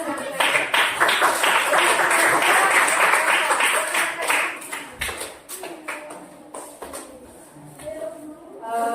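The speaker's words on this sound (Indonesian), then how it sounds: "tepuk tangan buat Mia" Schoolchildren in a classroom clap for a classmate named Mia, a burst of fairly close applause that tapers into scattered claps, with voices and chatter following.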